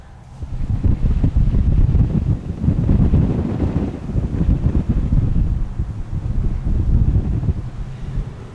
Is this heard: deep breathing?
no